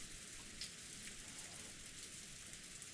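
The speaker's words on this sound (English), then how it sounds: "there's rain in the background" Steady rain falls in the background, a soft continuous hiss with faint patters, even and unbroken throughout with no voices.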